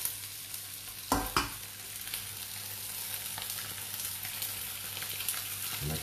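Noodles stir-fry in a wok for phad thai with a constant sizzle, and a couple of sharp utensil knocks come early on. No one speaks.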